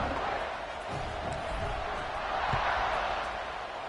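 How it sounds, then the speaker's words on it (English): A stadium crowd in an NCAA football video game keeps up a broad, steady roar after a score, a constant wash of noise with no distinct cheers standing out. "this crowd is buzzing after that last score"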